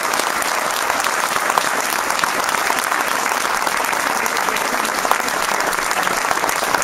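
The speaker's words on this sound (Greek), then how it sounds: "θα ήθελα ένα χειροκρότημα και για εκείνον" A crowd on Syros applauds a rival mayoral candidate after a municipal election. The clapping is loud and close, a continuous dense roar of hands that holds steady throughout without easing.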